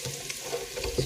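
Onions frying in a pan until golden brown, a steady soft sizzle with occasional stirring scrapes, close and continuous, no talking.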